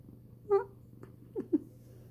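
A pet cat making a few short, close meows and chirps, three or four brief calls spaced apart over a faint low hum, with no talking.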